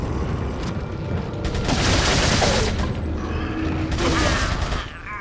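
Rapid bursts of gunfire from the video game Resident Evil 4, loud and close, emptying a magazine in a dense volley that then cuts off, with someone talking excitedly over it.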